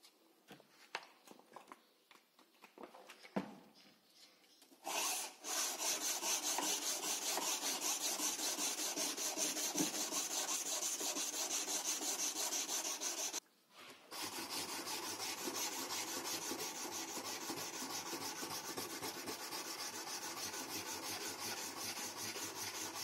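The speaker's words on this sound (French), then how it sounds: "Donc, on va tout simplement poncer" Steady abrasive sanding on a handmade survival knife blade, a continuous raspy hiss running for long stretches with a brief pause midway, after a few scattered knocks at the start.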